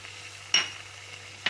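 A utensil clinks twice against a pan while jalapeños are stirred with chili garlic sauce, hot sauce and ketchup; two short, bright metallic taps about a second apart over a quiet background.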